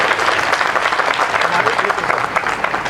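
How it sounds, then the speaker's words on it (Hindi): Listeners at a Hindi poetry recital break into loud, dense applause, many hands clapping together in a close, continuous burst that stays strong for about three seconds with some crowd noise mixed in. "एक बार तालियां बजा के मुझे आदेशित करें"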